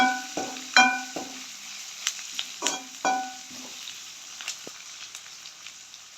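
Onions fry in a pan as a spoon stirs and taps, producing a series of close metallic clinks and scrapes over a faint, steady sizzle that gradually quiets.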